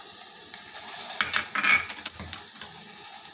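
Chilli flakes and corn flakes fry in a pan with a soft, steady sizzle, while a spoon scrapes and stirs through them in a short burst of close, crackly strokes.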